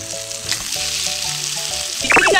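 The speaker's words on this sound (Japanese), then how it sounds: "中火のちょっと弱火ぐらい、ちょっと弱めの中火ぐらいで、じっくりと焼いていきます" Slices of pork koma shaped into a thick steak fry slowly in a pan over medium-low heat, giving a steady close sizzle with soft crackles throughout and a brief sharper burst of spitting near the end.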